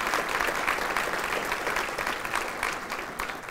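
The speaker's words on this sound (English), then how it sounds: "Let's give them a round of applause" Audience applause at a City of Albuquerque mayoral news conference, a dense, steady burst of many hands clapping that fades slightly near the end.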